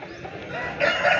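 A rooster crows loudly at a Sunday chicken market in Pileru that sells aseel roosters, one brief call rising and holding near the end.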